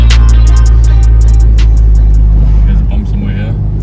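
A lawnmower engine runs with a loud, steady low rumble close by, its drone shifting slightly near the end as people talk over it.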